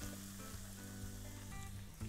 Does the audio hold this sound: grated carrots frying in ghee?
yes